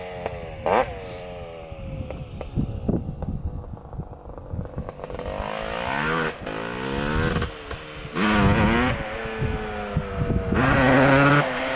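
Honda CR250 dirt bike set up for ice racing, its two-stroke engine revving in several rising, blipping bursts, with the pitch climbing and falling between pulls, moderately close.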